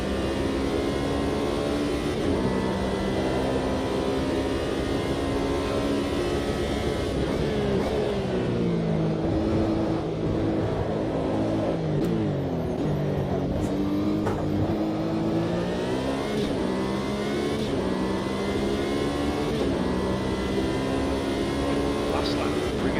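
Race car engines in Automobilista 2 during a six-hour Le Mans race: a loud, continuous engine roar with revs climbing and falling through gear changes, as cars pass close by, with someone talking over it.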